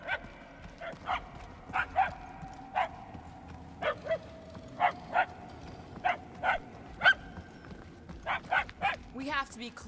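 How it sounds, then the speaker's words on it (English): Dogs bark repeatedly in Guardians of the Galaxy, sharp yapping bursts in an uneven rhythm, moderately distant, over a low ambient game soundscape with occasional background voices. "The barks are getting louder at least."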